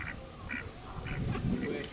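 Ducks quack by the lake in the gardens of Sherborne Castle, Dorset: several short, nasal quacks spaced irregularly, fairly close, over outdoor background murmur.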